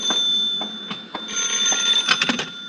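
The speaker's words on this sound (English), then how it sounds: "Answer the phone, will you?" An old telephone rings in a room, a bright, sustained bell tone with a rapid jangling pulse that swells and fades in bursts, close and fairly loud with no talking.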